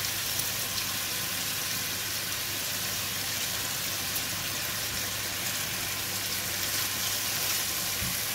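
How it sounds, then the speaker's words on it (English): Bacon for a fettuccine carbonara frying in a pan, a dense, even sizzling hiss that holds steady and fairly loud throughout with no voices. "This will cook the third batch of the bacon."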